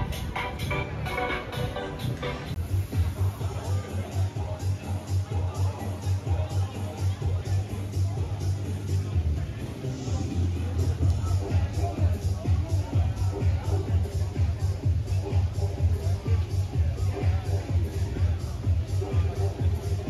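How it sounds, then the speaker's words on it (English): Busy evening crowd on the Gold Coast after the supercar races, a steady babble of many voices and shuffling with a low engine-like hum underneath. "I think it's a lot of that crowd out and about after the races today. But yeah, it's a pretty busy night."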